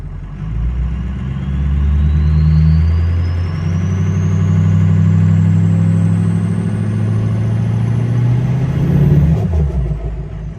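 A Ford 6.0 Powerstroke diesel truck engine revs up and holds under load with deep low rumble, a rising turbo whine climbing steadily over about nine seconds, then dropping off near the end; no talk.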